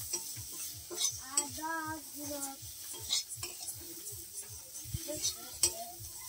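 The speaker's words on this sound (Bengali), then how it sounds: "মশলাটাকে কষিয়ে নিচ্ছে" Spice paste frying and being stirred in a pan for a Bengali fish curry with potatoes: a spoon scrapes and clatters against the metal in irregular strokes over a soft sizzle, with a voice singing or talking faintly in the background.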